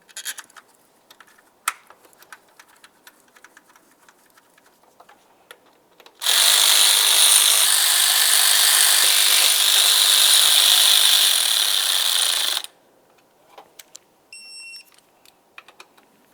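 A ratchet on the throttle body mounting bolts of a Ford Transit Connect, with scattered quiet clicks and then about six seconds of loud, rapid ratcheting close by, followed by a few more light clicks.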